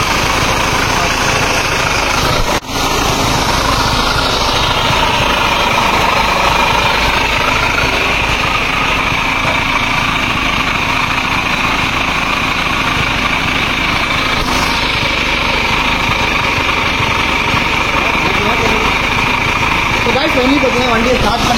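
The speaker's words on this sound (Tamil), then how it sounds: "வண்டியை ஸ்டார்ட் பண்ணியாச்சு." An old Avanti motorcycle in scrap condition runs after being started, its small engine idling with a steady buzzing drone and faint rattling vibration, continuous and fairly close, with voices talking over it at times.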